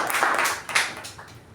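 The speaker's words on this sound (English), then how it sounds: "give Shivaprasad Sharma a big round of applause" Brief burst of audience applause at a Toastmasters club meeting, a short wave of clapping that swells and then tapers off quickly.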